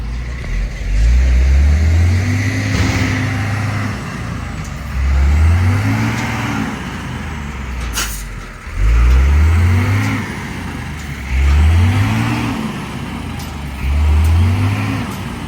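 A heavy tractor engine labors in repeated cycles, revving up and easing off several times, loud and close, with a brief sharp clatter midway.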